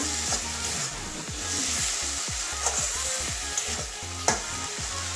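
Halved potatoes and spices stir-fry in a pan for a Bengali rui fish curry with kolmi greens, a steady sizzle broken by repeated scraping strokes of a spatula, close and continuous.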